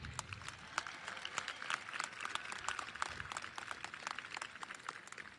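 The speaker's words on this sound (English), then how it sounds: "please give a round of applause" Faint, steady applause from a crowd at a college commencement ceremony for a brass quintet, many hands clapping continuously at a distance with no voices over it.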